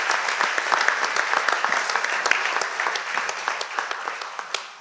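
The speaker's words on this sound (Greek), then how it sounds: "ένα χειροκρότημα." A live event audience in Kaisariani breaks into warm applause, a dense, sustained wash of many hands clapping with scattered sharper claps, fading slightly at the very end.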